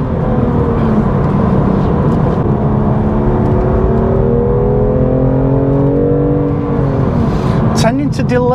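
A BMW M2 Competition drives up a road, its engine droning loudly and steadily, the pitch climbing slowly as it accelerates, with a voice talking over the engine noise.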